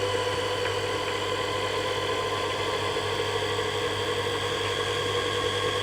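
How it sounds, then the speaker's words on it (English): A honey extractor spins steadily, its motor hum and whirring drum carrying a constant even drone with honey being flung against the inner walls, close and unbroken, with no talking. "that noise you can hear is the honey being flung against the sides"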